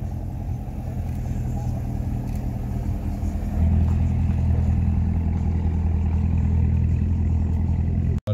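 Car with a tuned 4.6-litre engine at a car and motorcycle show, a loud low rumbling idle that swells and holds at a heavier rev, then cuts off abruptly near the end.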